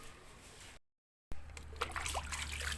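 Seaweed liquid fertilizer poured from a mug onto hard, dry soil in a potted plant, a steady trickling splash that runs after a short silent gap, close and fairly loud.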